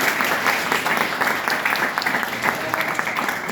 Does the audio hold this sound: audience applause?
yes